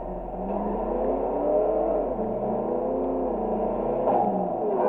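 A car engine hums steadily throughout while driving in The Simpsons Hit & Run video game, with rising and falling revs and no talk over it.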